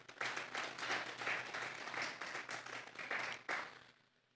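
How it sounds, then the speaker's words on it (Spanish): Congregation applauding during a Sunday church service, a fairly quiet round of group clapping in rhythmic surges that ends abruptly. "Vamos a darle un fuerte aplauso pues al Señor."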